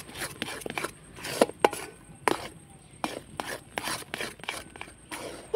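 A spatula scrapes and rasps against a wok while semolina and milk powder are stirred for sandesh, giving repeated close, dry strokes in an uneven rhythm with no talking.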